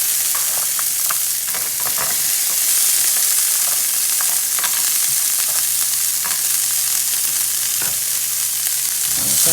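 Diced carrots frying over medium-high heat in a pan for fried rice, a loud dense hiss of sizzling with scattered scrapes and taps as they are tossed around, no speech.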